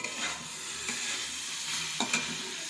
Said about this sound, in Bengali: এই যে এদিকে সবজিগুলো এখন ভেজে নিচ্ছি।